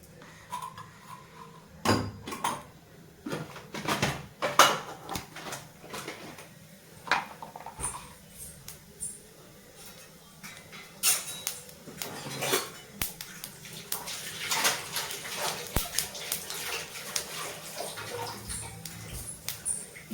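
Fennel seeds splutter in hot oil in a pan, making scattered sharp pops and crackles at close range, irregular and fairly quiet, with occasional utensil clinks.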